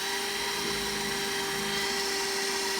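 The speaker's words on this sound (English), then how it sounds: "I've got a 5mm drill bit here in the drill." An electric drill fitted with a 5mm bit bores a hole through a plastic kayak hull, giving a steady, loud, high-pitched motor whine that holds constant across the whole stretch with no voices.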